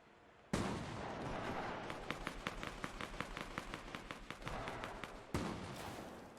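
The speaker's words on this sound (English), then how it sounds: "Oh, they apparently are shooting at someone else." Gunfire in the video game Fortnite: a rapid burst of repeated shots, fairly quiet and a little distant, with louder single blasts at the start and near the end and a steady background bed.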